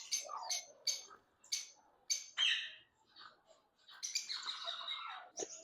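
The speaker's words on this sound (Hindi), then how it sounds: "हमारे पास स्टार फिंच का ब्रीडर पेयर पड़ा हुआ है" A breeder pair of star finches calls in a series of short, bright chirps and tweets, close by and fairly loud, with a longer squawking run of notes near the end and no talking.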